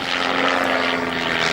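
Propeller-driven aerobatic aircraft flying in formation and performing a barrel roll at the RAF Cosford airshow, a loud sustained engine drone with a steady buzzing tone.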